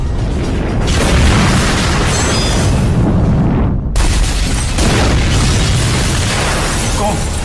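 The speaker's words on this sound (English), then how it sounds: "The sound of the crash" Heavy, roaring explosive rumble of a plane crashing into Amsterdam apartment buildings, loud and broadband, sustained for several seconds with a brief drop-out midway before the blast noise surges again.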